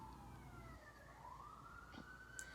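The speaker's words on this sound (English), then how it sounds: "I'm not thankful for the sirens though." Emergency vehicle sirens sound faintly outdoors, a thin rising and falling wail that carries on steadily over low background rumble.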